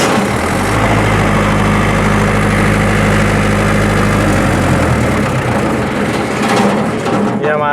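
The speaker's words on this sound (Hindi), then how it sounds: "हम इसको चला के एमरजेंसी को पुश करेंगे तो इंजन शटडाउन होना चाहिए।" A diesel generator engine idles loudly with a deep, steady rumble, then winds down and falls silent after an emergency stop, leaving a fainter rattle and background noise.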